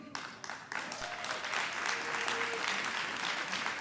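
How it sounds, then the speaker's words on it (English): Applause swells from the crowd at a public sector debate competition grand finale as a team captain is welcomed, starting after a few brief sounds and then building into a full, sustained clapping. "Keep the applause going as they come"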